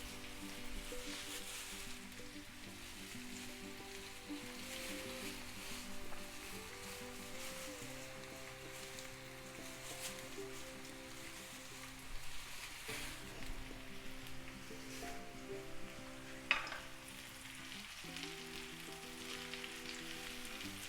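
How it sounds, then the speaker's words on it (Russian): Steady sizzling and crackling of chicken liver frying with caramelized onions in a pan, continuous and moderately close, with a low background hum and occasional louder pops. "И теперь печень будет жариться в луке"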